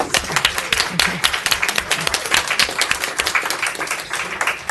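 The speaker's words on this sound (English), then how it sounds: "I think we need to give a round of applause." A room of people applauds in a Virginia Senate Education and Health committee room, with sharp individual hand claps close and distinct, some quick and uneven, continuing at a steady level throughout.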